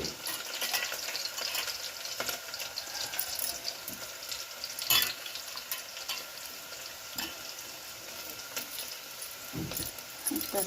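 Onions frying in a pan for drumstick sambar, a continuous close sizzle with occasional stirring scrapes and a brief splash of water, with no clear talking.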